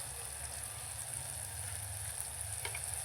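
Onion, tomato, ginger and garlic with garam masala sizzle in oil for dal tadka, a steady, even hiss with little variation.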